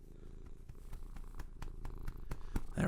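Close, low rumbling cat purr with a regular rhythm of soft pulses, faint and steady, with no talking.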